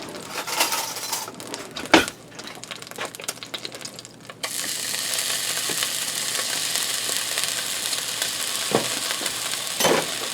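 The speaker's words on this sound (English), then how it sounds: "You just want to saute it real quick." Jarred garlic hitting a hot skillet for a one-pan chicken and buttered noodles meal: a few seconds of spoon clinks and scraping, then a sudden loud, steady sizzle that continues to the end, nearby and without speech.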